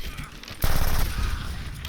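Gunfire in the video game Medal of Honor: Airborne, a sudden burst of loud rapid shots that kicks in partway through and holds steady as a dense, close barrage over low background noise.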